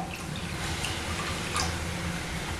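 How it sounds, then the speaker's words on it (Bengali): Water pours into date-palm jaggery in a pan, a soft, quiet trickle and splash with a few faint drips, close by and without speech. "এখন আমি যতটা নলেন গুড় নিয়েছি তার হাফ আমি জল দিয়ে দিচ্ছি।"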